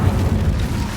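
A short, loud, booming whoosh of the Incendio fire spell being cast in Hogwarts Legacy, a single dense burst filling the whole second.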